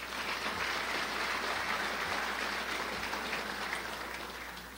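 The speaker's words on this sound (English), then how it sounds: "Let's give them a round of applause as well" Audience applause for city officials, including a judge and a clerk treasurer, at a Crown Point State of the City address: a dense, steady wash of many hands clapping throughout, fairly distant and even, fading slightly toward the end.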